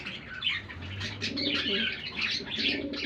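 Rajshahi Gurubazar pigeons, a pair, coo in low murmuring bursts close by, mixed with chirps and fluttering wings in a busy loft.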